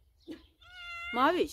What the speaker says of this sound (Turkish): Kendini sevdirmiyor ama sevimli bir kedi.